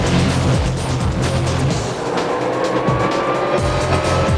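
Drag racing cars, including a Chevelle, launching from the start line at WesBank Raceway, a loud, close roar of engines with tire squeal that holds steady through the short burst.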